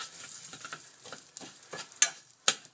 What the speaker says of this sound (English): So that's frying away.